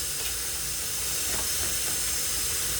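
Sauerkraut with diced onions cooks in butter in a hot pan, giving a steady, soft sizzling hiss that stays even and unbroken throughout.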